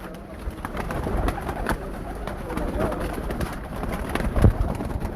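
Pigeons on a rooftop during a gathering, with bird calls and soft coos scattered through steady background noise and a hint of voices.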